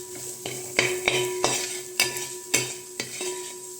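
A spoon stirs and scrapes rhythmically through chicken and spices frying in a pan, with regular knocks against the pot over a soft sizzle and no voices.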